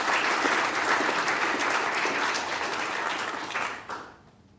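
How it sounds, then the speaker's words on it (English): Audience applause at a presentation, a dense, steady clapping from a crowd that holds level for several seconds and then fades out quickly. "A big round of applause for Dr. Jenny Gray."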